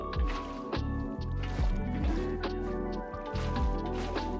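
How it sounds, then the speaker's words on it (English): Repeated soft watery splashes and sloshing placement sounds as water blocks are placed in a block-building video game, several in a row, with a low synthetic tone underneath, no speech. "Starting with our bottom row, we're going to fill this up with water."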